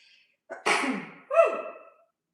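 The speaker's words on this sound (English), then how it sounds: "I have a sneeze." A single close, loud human sneeze with a sharp intake of breath before it and a throaty, voiced release afterward, in an otherwise quiet room.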